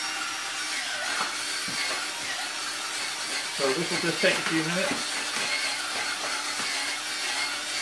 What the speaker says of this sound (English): So I'm using just a drill with a paint mixer on it.